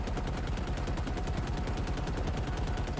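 Rapid automatic gunfire from a Halo Infinite PC campaign battle, a steady loud stream of closely spaced shots running without pause for the whole stretch.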